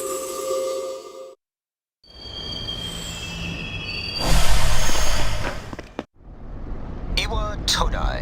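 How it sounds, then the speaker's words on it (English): A train pulls into a station in Persona 3 Portable, with rumbling rail noise, a brief gap, a swell of louder running sound, then sharp high wheel squeals as it brakes; a station announcement voice plays over it. "This is the final train bound for Tatsumi Port Island."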